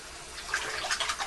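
Tap water runs while a razor is rinsed during a face shave, a soft, faint trickle with a few brighter splashes and drips in its second half.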